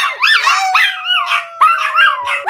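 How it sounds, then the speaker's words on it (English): A big dog howls and yips from downstairs in a house, several drawn-out rising and falling howls in quick succession, fairly loud, with a faint steady tone underneath. "My big dog is down there. I can hear him downstairs."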